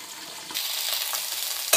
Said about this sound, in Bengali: ঢাকার মধ্যে বেগুনটা ভাজা হোক